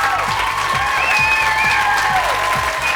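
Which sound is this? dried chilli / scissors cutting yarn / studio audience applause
studio audience applause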